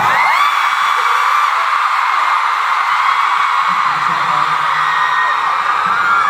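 A loud, sustained wall of high-pitched screaming from a large crowd at a fan festival fills an echoing hall without pause.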